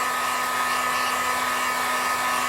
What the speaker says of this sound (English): This is a hair dryer, so you can dry things with a hair dryer pretty easily.